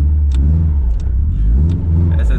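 A Subaru STI with a sequential gearbox accelerates from traffic lights, its engine revving loud and close in rising pulls with brief dips as it shifts, a deep throaty drone dominating throughout.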